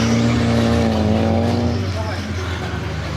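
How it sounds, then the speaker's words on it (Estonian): Radio-controlled model cars racing on an outdoor track, including small 1:10 four-wheel-drive nitro buggies, electric buggies and a truck; a loud steady high engine whine with a tonal drone that shifts pitch as a car passes, and a voice talking over it. "on sõitvaid autosid rajal 5."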